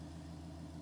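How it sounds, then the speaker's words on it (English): A car engine idles at a steady low hum, quiet and unchanging through a short stretch, with no voices. "I'm going to let it continue to idle, kind of do its thing."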